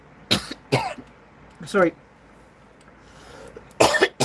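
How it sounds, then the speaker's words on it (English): A person coughs in several short, sharp bursts spaced out over a few seconds, close and loud, with a brief spoken apology between them. "Apparently, I cough more when I get emotional."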